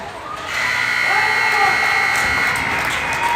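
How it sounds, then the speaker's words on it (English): A long, steady electronic horn sounds at the end of a period in a youth ice hockey championship game in an arena, loud and continuous under crowd noise. "That's the buzzer."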